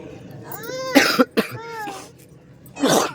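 Several harsh coughs burst out close by in uneven clusters, with strained wheezy breaths between them and a final hard cough at the end.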